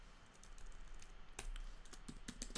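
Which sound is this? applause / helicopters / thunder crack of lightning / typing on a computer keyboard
typing on a computer keyboard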